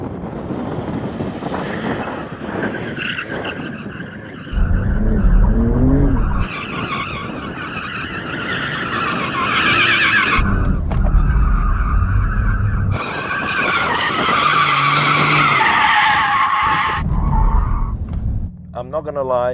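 Porsche 911 variants such as a Turbo S, GT2 RS and GT3 skid on track while warming up their tyres, with loud sustained tyre squeal and engine roar in shifting bursts under steady wind noise and occasional talk.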